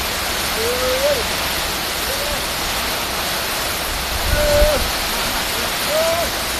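Heavy storm rain pours down in Nong Hong district, a dense, continuous hiss and patter that fills the air while a few faint voices rise briefly beneath it.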